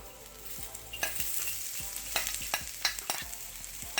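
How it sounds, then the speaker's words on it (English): Mushrooms and onions stir-frying in a very hot pan or wok for halibut fried rice, a quiet hiss with repeated sharp scrapes and tosses of the spatula at irregular intervals, no talking. "we're gonna add the mushrooms,"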